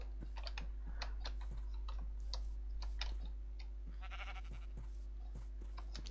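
Sheep bleating in a Minecraft-style video game, several short electronic bleats scattered among clicky keyboard typing and ticking, with a steady low hum underneath and no speech.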